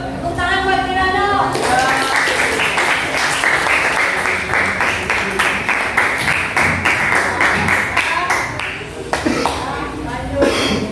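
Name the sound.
applause for student Kirano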